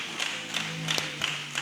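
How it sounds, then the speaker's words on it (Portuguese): A church congregation at an IPDA service in Osasco claps along in a steady rhythm, with sharp, evenly spaced claps about three per second and a faint sustained tone underneath. "Glorifique a Deus com as palmas bem alegres."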